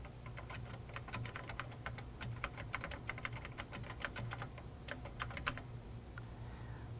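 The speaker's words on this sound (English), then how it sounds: "The selected text is replaced by typing on the keyboard." Rapid, irregular clicking of keys on a computer keyboard as text is typed on a Smalltalk-80 workstation, close and crisp over a low steady hum, with a short pause near the end.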